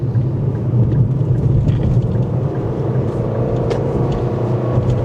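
A 2025 Nissan Kicks SR in sport mode accelerates on a highway, a loud steady low engine and road rumble heard from inside the cabin with no talk.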